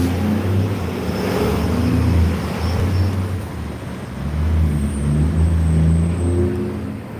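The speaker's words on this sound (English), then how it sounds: "truck made too much noise." A loud truck passes on a street during an outdoor protest, a heavy engine roar that swells, holds and shifts over several seconds, close and steady, with no voices.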